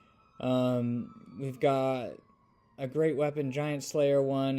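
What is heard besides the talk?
emergency vehicle sirens outside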